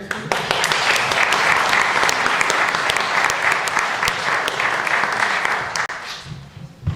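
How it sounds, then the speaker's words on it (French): Applause at a 2024–2025 press conference for the Louves team as a player is introduced, loud and continuous crowd clapping that fades out near the end. "Il y en a une qui applaudit plus forte que les autres parce que c'est sa grande sœur"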